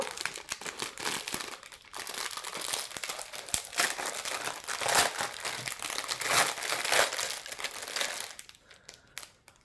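Diamond painting kit packaging is handled and opened up close, with bursts of plastic crinkling, crumpling and tearing that rise and fall over several seconds before quieting.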